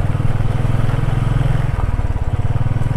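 Motorcycle riding a risky mountain road in Spiti, its engine thrumming loud and close with a steady low pulse that shifts to a choppier, throbbing rhythm partway through, wind rushing behind it.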